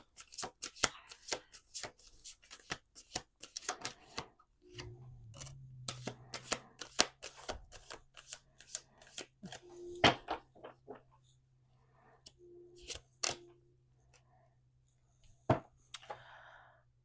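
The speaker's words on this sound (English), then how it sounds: "Last shuffle. Last shuffle." Cards riffle and snap in quick repeated bursts, close and crisp, with a low hum running underneath for part of the time.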